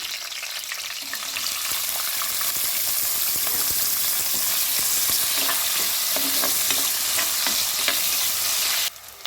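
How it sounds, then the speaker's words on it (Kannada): Cashews and onion frying in a pan, a steady loud sizzle with constant stirring scrapes throughout, close up, cutting off abruptly near the end. "ಇವಾಗ ಸ್ವಲ್ಪ ಗೋಡಂಬಿ, ಈರುಳ್ಳಿ ಹಾಕ್ಕೊಳ್ತಾ ಇದ್ದೀನಿ."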